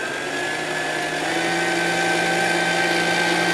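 An electric mixer whirs steadily on high speed while beating cake batter, a loud continuous motor hum with a constant pitch that holds evenly throughout, with no talking.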